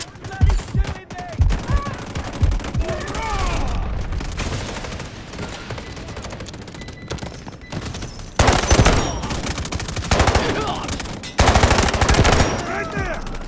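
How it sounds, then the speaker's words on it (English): Automatic gunfire from a K437 rifle in the mobile shooter Delta Force Mobile, loud dense bursts of rapid shots coming in waves throughout, heaviest toward the end, with battle noise between volleys. "Somebody's bloody shooting me!"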